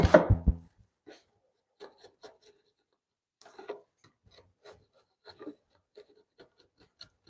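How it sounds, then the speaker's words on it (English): A woodworking chisel scrapes across 2000 grit sandpaper in a workshop, heard as faint, sparse rasping strokes in short bursts with quiet gaps, following a few louder knocks at the start. "So this is what I sharpen my chisels with."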